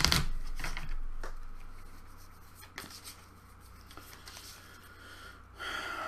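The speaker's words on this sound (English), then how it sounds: "how annoying is that to shuffle right next to the microphone?" Cards from a Ghostbusters II board game being shuffled right next to the microphone, a loud riffling burst at the start followed by softer shuffling rustles and taps, close and alone.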